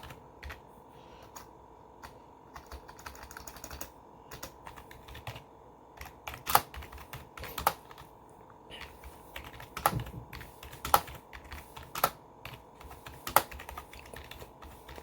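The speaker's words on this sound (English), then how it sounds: "Typing with one hand right now." Someone types on a computer keyboard with one hand: sparse, uneven key clicks with a few louder sharp taps standing out, close and fairly quiet, with no talking.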